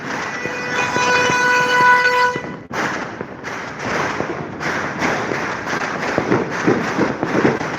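A loud, blaring toy air horn tone sounds for a couple of seconds, then cuts off, followed by a rapid crackle of popping bangs like firecrackers, on a street at New Year's.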